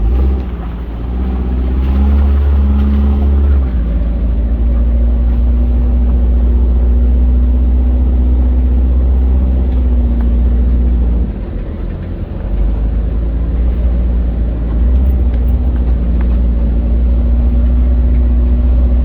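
A Suzuki 4x4 engine labors up a hill in low range with the throttle barely open, giving a loud steady drone that dips briefly midway, recorded from inside the vehicle with no talking.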